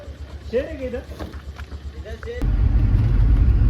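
A truck loaded with mangoes setting off: after people talk over a low idle, a heavy engine rumble surges up loud and close and holds steady.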